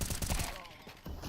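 Gunshots in an esports video game match: a quick, quiet burst of rapid gunfire cracking under the game's background noise, then a brief pause and another short volley.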